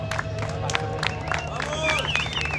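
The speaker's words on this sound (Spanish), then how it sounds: "Un fuerte aplauso para Val Ferrer" Crowd at a food-challenge event applauds and cheers for Val Ferrer, taking on a 5-kilo empanadilla, mixing clapping with whoops and excited voices.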